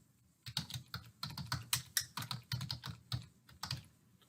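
Typing on a computer keyboard, a quick irregular run of close, crisp keystrokes lasting a few seconds with no talking.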